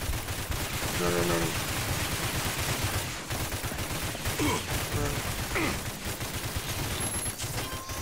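Gunfire from enemies strikes the player in the first-person shooter RAGE on Xbox One X, a dense, steady barrage of rapid shots under game music and effects, with a faint voice now and then.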